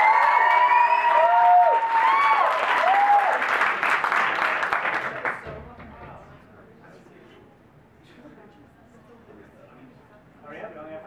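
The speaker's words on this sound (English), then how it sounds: "I get a round of applause for fate?" A DePaul University Write Club debate audience bursts into loud applause and cheering for about five seconds, then the noise drops away to quiet room murmur, with a brief voice near the end.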